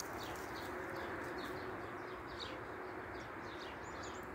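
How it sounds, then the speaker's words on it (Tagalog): Birds chirp and call repeatedly at a distance in the morning over a steady outdoor hum, with short bright calls scattered throughout. "Kasi daming ibon pag umaga."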